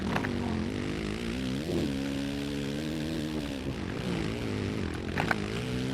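Dirt bike engine in the MX vs ATV Legends video game, running steadily through laps on a heavy-feeling tuned bike, a continuous droning motor whose pitch rises and falls with throttle changes, loud and close.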